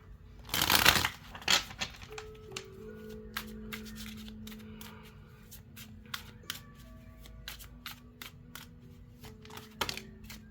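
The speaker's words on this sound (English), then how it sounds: "Let me shuffle it a little bit. Mix it up." A deck of tarot cards shuffled by hand, one loud riffling burst near the start followed by scattered soft clicks and taps of cards, close and quiet, no talking.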